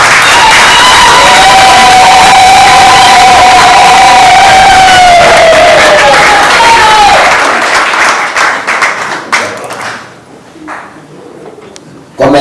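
Graduation ceremony audience clapping and cheering loudly, with whoops and a sustained high shout over the crowd noise, then the applause thins out into scattered claps and voices.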